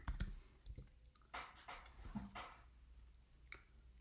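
A computer keyboard being typed on at a terminal, with a few quiet, scattered key clicks in short bursts, recorded close and faint with no talking.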